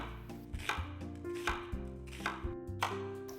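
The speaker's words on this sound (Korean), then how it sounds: "양파 2분의 1개는 굵게 채 썰어주세요." A knife slices half an onion into thick strips, producing a close, regular series of crisp chopping knocks about every half second, loud and clear with no speech.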